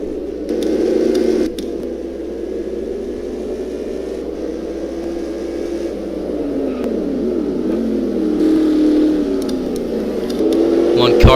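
A Jaguar Formula 1 race car heads into the pits, its engine a steady droning whine that shifts in pitch as it slows, heard under continuous commentary from a race broadcast.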